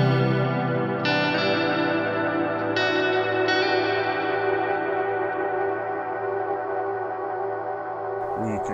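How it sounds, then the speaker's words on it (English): A sustained guitar chord swims in a murky, wobbling oil can delay effect with diffused repeats, a few higher notes struck over it and repeats smearing into a long wash. "I like to keep it pretty diffused for oil can sound."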